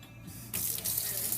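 A tap suddenly turns on and water runs steadily into a sink at a clinical pathology lab bench, a close, even hiss with no talking.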